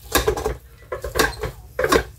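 Rice being stirred in an unplugged rice cooker, close scraping and soft clattering of a spoon against the pot in quick, uneven strokes.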